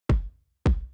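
Two punchy kick drum hits from a Drum Lab library layer in Kontakt, stacked under a thumb kick for body in a pop production. Each hit is deep and close with a short decaying tail, spaced about half a second apart.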